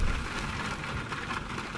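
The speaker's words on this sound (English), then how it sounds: "It's definitely raining." Steady rain in the video game White Night, a dense, even hiss of falling water heard alone at a moderate, constant level.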